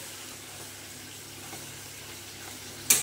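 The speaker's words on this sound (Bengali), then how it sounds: "এবার এটাকে দিয়ে ভালো করে কষে নেব।" Spice paste for Gandhoraj chicken fried in a pan, a soft steady sizzle close by with no talk, ending in a brief sharp clink.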